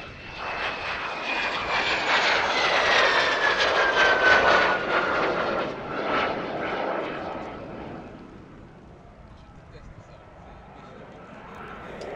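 A Morane-Saulnier Paris jet makes an airshow display pass, its engine whine swelling to a loud peak with a falling pitch, then fading into distance while a voice speaks over it.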